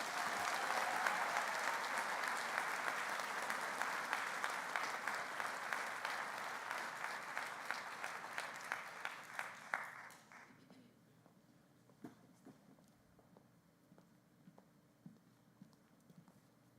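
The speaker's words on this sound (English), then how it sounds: "Please, one more round of applause for all of the award recipients." Audience applause at a fall staff assembly honouring award winners, a dense, steady clapping that goes on for about ten seconds, then thins to a few scattered claps.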